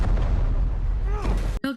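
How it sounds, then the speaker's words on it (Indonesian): A loud, deep booming blast from a bomb explosion in the 2023 film Aquaman, a rumbling burst that fills most of the moment before cutting off into a brief voice. "Dr. Sin malah memberi sebuah bom hingga terjadi ledakan di tempat itu"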